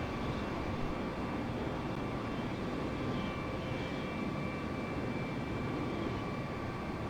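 Alpha Jet engine in Microsoft Flight Simulator 2020 at high speed, a steady loud broadband roar with faint constant whining tones, continuous and unchanging, with no talking.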